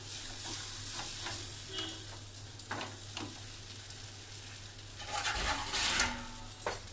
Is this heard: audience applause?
no